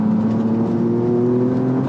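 Toyota GR Yaris with an anti-lift kit and camber bolts pulls hard out of a corner, a loud, steady engine drone with a strong tonal hum, heard from close up.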